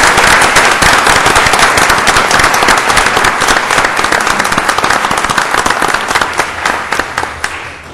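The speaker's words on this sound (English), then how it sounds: "Please give them a round of applause." A crowd at a city council meeting gives a loud, sustained round of dense applause, with clapping filling the whole stretch evenly before thinning slightly near the end.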